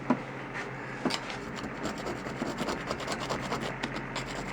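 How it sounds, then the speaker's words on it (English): A screwdriver scrapes rust off a metal heater hose return line on a Dodge Caravan 3.3L, giving a steady, fairly quiet rasping with a few sharper scratches near the start. "Maybe we should get a screwdriver in there and clean that little bit right there."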